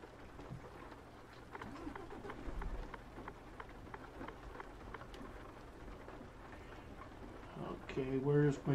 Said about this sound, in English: Oh, of course it's raining.